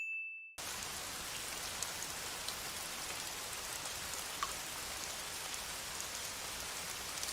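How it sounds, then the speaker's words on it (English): Heavy rain pouring down outside in an anime scene, a dense, steady hiss of drops on surfaces after a brief bell tone, with an occasional faint ding, constant and even throughout. "the rain is pouring down outside"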